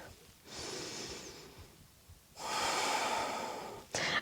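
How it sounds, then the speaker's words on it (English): Deep breathing during a vinyasa yoga class: two long, airy breaths, each lasting a second or more with a pause between and a third starting at the end, close and clear with no talk. "Take another full cycle of breath here."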